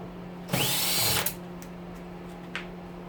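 A power drill whirs in one close burst of under a second while removing screws from an oven, followed by a couple of short clicks against a low steady hum.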